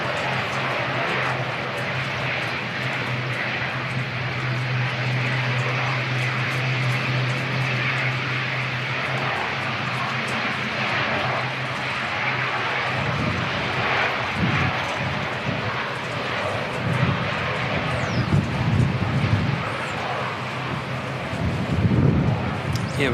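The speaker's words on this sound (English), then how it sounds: "we've got NZ5751 to Dunedin's just on its way out" Air New Zealand ATR turboprop departing Christchurch Airport for Dunedin in wet, windy weather, a steady distant engine drone with wind rumble that grows heavier toward the end.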